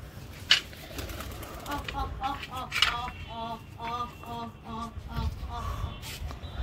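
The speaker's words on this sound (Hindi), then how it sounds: "अभी कबूतर बंद करो जैन," Soft repeated cooing of a jeera pigeon, with a couple of sudden wing flaps and some faint shuffling close by.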